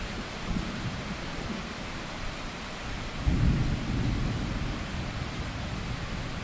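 Thunder rolls through a steady rainstorm, a constant wash of rain with a deep rumble swelling loudly about halfway through and lingering, no voices present.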